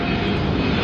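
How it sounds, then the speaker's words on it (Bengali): An airplane passes low over a house rooftop near an airport in the morning, a steady loud broadband engine roar that holds throughout without talk. "আমাদের বাড়ির ছাদের উপর দিয়ে প্লেন যায়"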